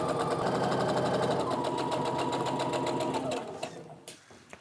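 A sewing machine runs fast and close while stitching long rows of a quilt top together, a continuous rapid mechanical chatter that slows and stops in the final second.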